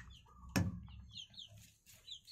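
Chickens cluck and chirp nearby in a coop, with a sharp knock early on and soft background noise throughout.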